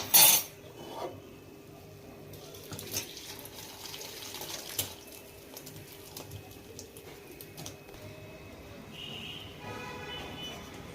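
Boiled soybeans are poured out and drained, a steady trickle and splash of water running through a strainer into a sink, with a sharp knock at the start and faint clinks of utensils.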